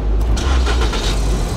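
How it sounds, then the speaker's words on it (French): A car engine cranks and catches, giving a loud, steady low rumble that holds for about a second and a half, with some brighter rattling over it. "Démarre la voiture là."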